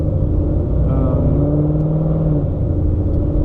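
A procharged 2015 Ford Mustang pulls hard through the gears, its loud, steady engine roar climbing in pitch with a brief shift midway, close and continuous with no talk over it.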